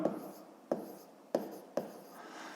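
Four sharp taps of chalk or a pen striking a writing surface during a fifth-grade math lesson, spaced about half a second apart, in a quiet room.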